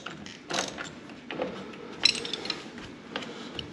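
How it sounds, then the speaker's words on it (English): A socket wrench tightens the mount bolt of a BoatBuckle G2 retractable tie-down strap on a Skeeter TZX 190 boat, giving a few soft ratcheting clicks and light metallic clinks, close and quiet. "Ends up being a 5/8 wrench, so you can get the wrench down in there, and then with the socket"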